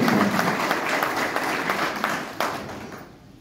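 Party workers at a BJP booth event in Shiva Nagar, Kathua, applaud a dignitary's arrival with a brisk burst of clapping that gradually thins and fades out within a few seconds.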